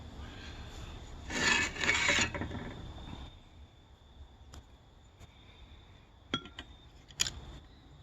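Black residue is scraped and cut off a rusty tool after electrolysis, with two close rasping strokes followed by quieter scrapes and a few sharp metallic clicks and taps.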